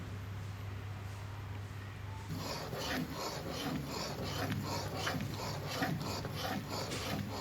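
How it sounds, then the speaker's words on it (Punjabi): Flour roasting in ghee, stirred in a pan for methi pinni: a quiet sizzle, then from a few seconds in a steady run of close scraping and rubbing strokes with a soft background hum. "ਇਹਨੂੰ ਉਨਾ ਚਿਰ ਆਪਾਂ ਹਿਲਾਉਣਾ ਜਿੰਨਾ ਚਿਰ ਇਹ ਗੰਡਾ ਖੁਰ ਨਾ ਜਾਣ"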